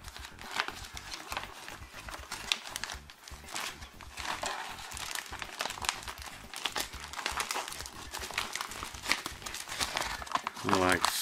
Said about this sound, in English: what I'm going to do is get my Ziploc bag on in here.